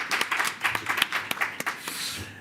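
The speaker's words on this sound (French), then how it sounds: "une petite main d'applaudissement pour..." Applause from a panel audience at a French-language discussion, a short burst of scattered hand claps, moderately close, lasting a couple of seconds and tapering off.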